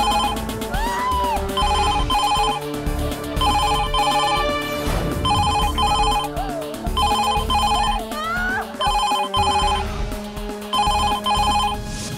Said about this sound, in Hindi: फोन हर रोज उसी समय बजता था।